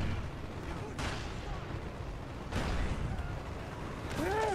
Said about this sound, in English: That's a napalm strike.